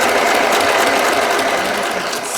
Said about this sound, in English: what I'm going to do is just sew this up right across the top